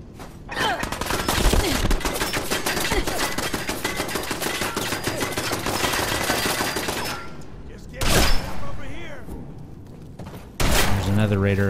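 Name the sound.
turret firing in Fallout 4 video game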